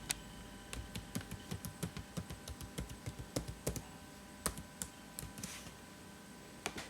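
Keys clicking on a computer keyboard as a username and password are entered to log into an Azure virtual machine, a steady run of light, evenly spaced taps close to the mic with short pauses, no voices.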